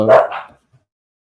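A single sharp dog bark, close and loud, with a brief rough tail that fades quickly into silence.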